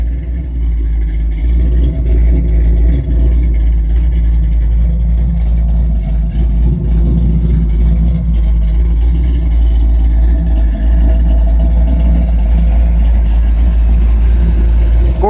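A 1972 Chevrolet Nova with a 350 small-block V8 and four-barrel carburetor idles steadily up close, its deep rumble continuous and loud throughout with slight variations in throttle.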